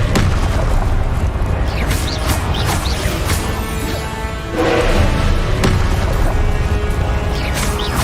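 Confringo fire-blast spells explode in the video game Hogwarts Legacy, loud booming bursts over a constant roar of battle noise, with a brief dip before another blast surges back in.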